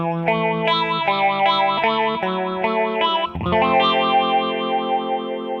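Electric guitar run through a Mr. Black Twin Lazers dual phase modulator at full rate, giving a loud, sustained, wobbling, heavily modulated tone, with a new chord struck about halfway through and no talking.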